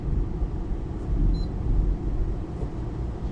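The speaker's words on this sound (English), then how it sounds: "There's a big truck going by." A big truck passes by outdoors, a continuous low rumble that swells and fades slightly over a few seconds, steady and fairly loud, with no voices.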